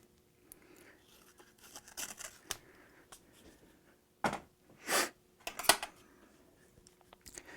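Masking tape is wrapped around a fishing rod blank in a quiet room, with soft rustles, then a few louder sticky peeling and crackling pulls near the end.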